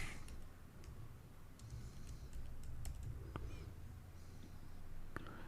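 Fingers tap out a Wi-Fi password on a MacBook keyboard, a sparse run of light, quiet key clicks at uneven intervals over faint room noise.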